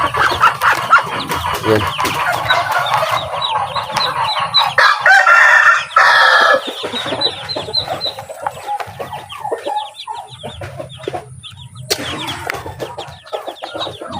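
Native chickens clucking in a close, busy flock while roosters crow loudly several times, the calls overlapping and repeating, with a brief spoken word between them.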